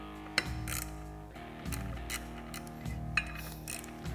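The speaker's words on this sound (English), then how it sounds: "We're gonna remove the 4 screws securing the Helix to the secondary." Screws being removed from the secondary clutch helix of a Polaris RZR XP 1000 with a ratchet or power tool: whirring, ratcheting mechanical runs punctuated by a few sharp clicks, quiet and close.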